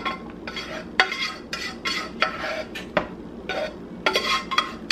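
Pasta being tossed in a pan with Italian sausage gives a steady, close clatter of utensil scrapes and sharp metallic knocks against the cookware, coming in irregular bursts with no talking.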